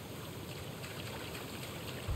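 A waterfall in the video game Star Wars Outlaws gives a steady, even rush of falling water that holds at a constant level for the whole stretch, with a faint low thump near the end.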